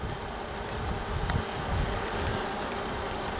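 A dense, steady buzzing of many honeybees around a hive close by, a continuous droning hum with no voices.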